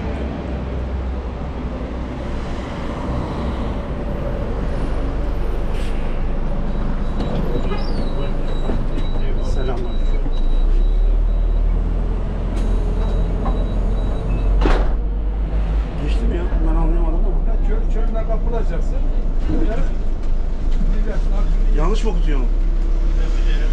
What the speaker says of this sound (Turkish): Otobüs geliyor inşallah, kartımızda vardır.